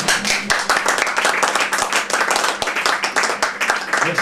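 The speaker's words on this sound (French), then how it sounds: "Khadija, vous pouvez l'applaudir" An audience claps warmly for a singer at a small French cabaret-style show, the dense hand-clapping steady and close throughout, with a few individual claps standing out from the crowd.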